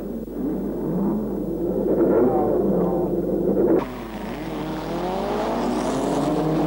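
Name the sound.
race cars starting a Le Mans-style race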